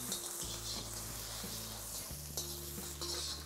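Curry leaves, green chilli and chopped ginger frying in hot oil in a pan, a steady close sizzle and crackle with a few stirring scrapes, no talk.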